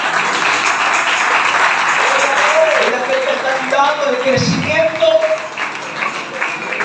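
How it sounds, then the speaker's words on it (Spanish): Congregation applause at a Spanish-language evangelical church service, a steady wash of clapping running throughout while a preacher talks over it. "den un aplauso al Señor Jesucristo una vez más."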